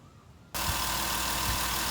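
A 3.8L Jeep Wrangler JK engine starts and settles into a steady, close idle after a thermostat and housing replacement, the low rumble taking over abruptly after half a second of quiet.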